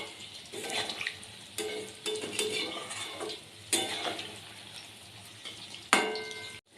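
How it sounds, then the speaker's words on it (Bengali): Chicken pakoras fry in oil over a low gas flame, with a soft bubbling sizzle broken by several bursts of stirring and spoon clatter against the pan at irregular intervals. "প্রথমবারটা একেবারে গ্যাস আস্তে দিয়ে ভাজতে হবে"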